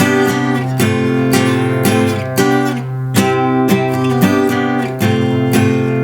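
An acoustic guitar strums the rhythm of a song, played close and loud with repeated accented chord strokes in a steady driving pattern and no talking.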